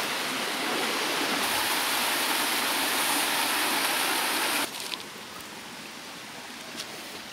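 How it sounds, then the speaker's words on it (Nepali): Large natural waterfall at Kakare, Dhading, a loud dense rush of falling water that abruptly drops to a softer distant roar partway through. "माथि ठुलो झरना छ"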